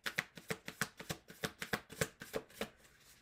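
Tarot cards being cut and handled in a quick series of about a dozen crisp, evenly spaced slaps and snaps, close and clear, with no voice over them.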